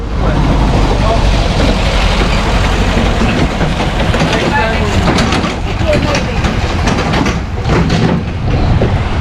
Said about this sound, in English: So that was the train that I was telling you about earlier